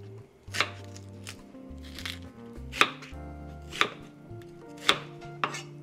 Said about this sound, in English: One onion, I'm just going to cut it in half.